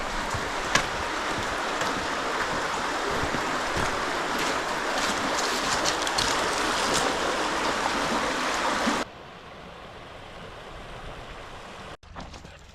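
A river near Telluride, Colorado rushes in a steady broadband wash, loud and close for about nine seconds, then drops abruptly to a quieter flowing hiss with a brief knock near the end.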